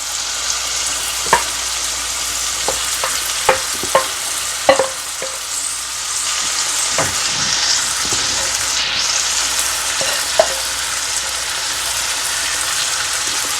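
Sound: banana flower added to frying pan, sizzling

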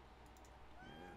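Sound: cat meowing

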